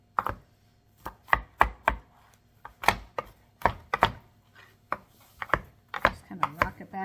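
A knife chops and rock-minces smashed garlic on a cutting board for a pork and hominy pozole, sharp irregular close thuds in quick clusters with short pauses, no talking.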